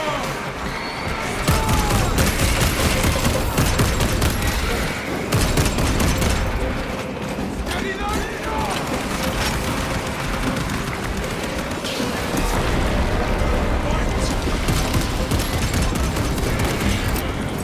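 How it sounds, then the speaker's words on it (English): Dense, continuous small arms fire in a Space Marine 2 battle, sustained rattling volleys with booms mixed in, steady and loud throughout with little break. "Small arms fire. It sounds close."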